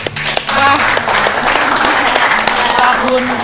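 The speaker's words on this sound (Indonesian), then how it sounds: "Tepuk tangan dulu dong." Applause for a veteran Indonesian film actress during a shoot, a continuous close crowd clap with voices talking over it.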